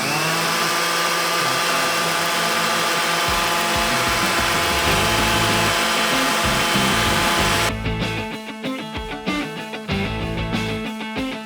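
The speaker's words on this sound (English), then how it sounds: "we're actually going to be using a palm sander with one of our Diamond Disc 60 grit pads" A palm sander with a 60-grit diamond disc pad sands a GFRC concrete countertop, running loudly and continuously with a harsh grinding whir, then turning choppier and more uneven toward the end.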